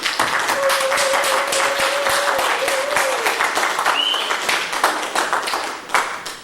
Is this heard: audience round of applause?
yes